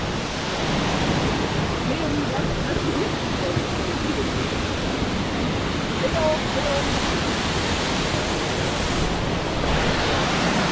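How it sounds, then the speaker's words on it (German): Todtnau waterfalls in the Black Forest roar with a loud, steady broadband rush of falling water that fills the whole stretch without pause. "Ansonsten rauscht es hier noch mehr runter"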